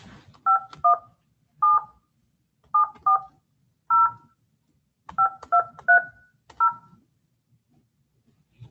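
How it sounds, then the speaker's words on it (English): Touch-tone telephone keypad beeps as a number is dialed during a court hearing, eleven short dual-tone presses in irregular clusters, clear and close with faint room noise between them. "I'll just dial that number."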